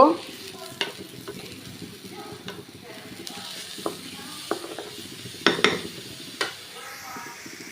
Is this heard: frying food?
yes